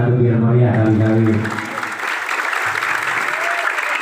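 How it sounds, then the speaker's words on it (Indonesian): An audience at a Sundanese religious lecture for Maulid Nabi breaks into loud, sustained applause after a voice trails off, with the clapping continuing to the end. "Tong seurik tepuk tangan atuh biar meriah kali-kali."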